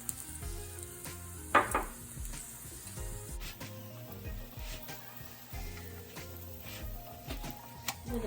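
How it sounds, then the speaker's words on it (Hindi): Oil sizzles softly under an aloo gobi paratha frying on a griddle, with light scraping and clinking from a spatula and one sharper knock early on. "अब मैं ऑयल लगा रही हूँ इसके ऊपर"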